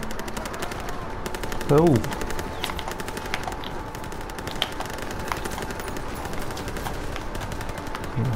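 Steady machine-gun and rifle fire crackles throughout a Call of Duty WWII battle, with sharp individual shots over a continuous combat din while a player briefly exclaims.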